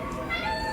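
Short meow from a pet cat named Bootsy, heard close and clear as one brief drawn-out cry.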